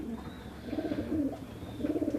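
Racing pigeons coo nearby in a loft, several soft, throaty rolling calls repeating and overlapping across the moment with no talk.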